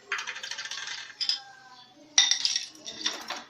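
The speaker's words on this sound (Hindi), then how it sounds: "अब हम इसमें बर्फ डालेंगे।" Ice cubes drop into a blender jar of almond milk, giving close, bright clinks and rattles in a few separate clusters with short quiet gaps between them.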